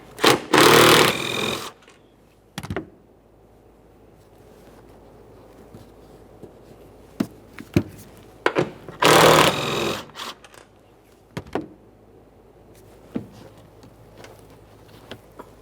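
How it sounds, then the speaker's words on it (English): Two loud whirring bursts from a tool removing the two 14mm shock mounting nuts on a 2015-2019 Subaru Outback, separated by quieter scattered clicks and knocks of handling. "Now we're only removing our 2 14mm mounting nuts."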